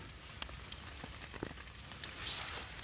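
Rain patters on a Hungarian military shelter half in the woods, scattered soft drops ticking irregularly on the fabric, quiet and close with no talking.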